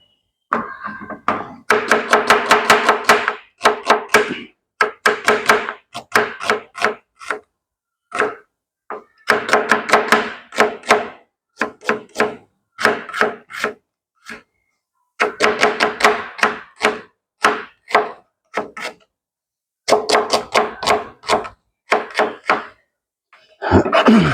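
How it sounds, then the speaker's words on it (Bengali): Onions being chopped with a knife on a board, with quick bursts of rapid close chopping strokes broken by short pauses and separate single knocks, loud and with no talk over it. "পেঁয়াজগুলো কেটে নেওয়া আগে"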